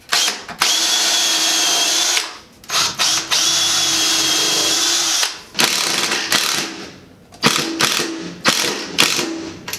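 A power drill drives screws through shelf leg brackets into a floor joist for basement or garage storage shelves, whining in several loud, close bursts of varying length with brief pauses and ratcheting clicks between them.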